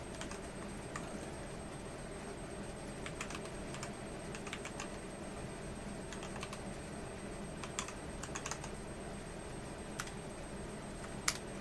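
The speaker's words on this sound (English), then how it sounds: "Let's try typing something." Soft computer keyboard typing comes in scattered clusters of light keystroke clicks over a steady low background hum, fairly quiet and close.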